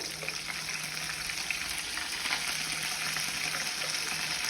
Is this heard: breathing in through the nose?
no